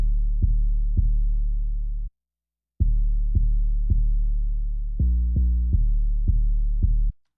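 Rounded, deep bass hits pulse in a steady pattern with a brief gap, each note booming and tapering off smoothly, tight and controlled without distortion.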